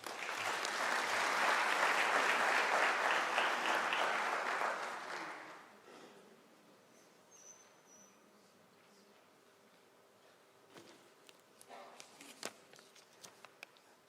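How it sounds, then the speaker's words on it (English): At a university spring graduation ceremony, a crowd's loud, dense applause runs for about five seconds and then dies away into a quiet hall with scattered small clicks and rustles. "Let us give it the round of applause."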